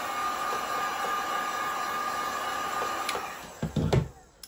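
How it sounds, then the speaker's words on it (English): A heat gun blows steadily on resin poured in a feather tray, a constant airy whoosh with a faint whine, close and alone, then a few clunks and handling knocks at the end. "hit it with the heat gun."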